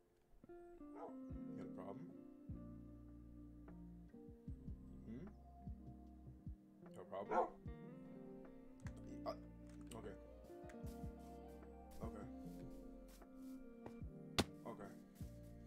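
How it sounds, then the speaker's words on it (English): A dog barks a few times within a lo-fi music track on a Fortnite stream, sitting mid-level in the mix while someone talks over it. "That dog just said some shit to me, dude."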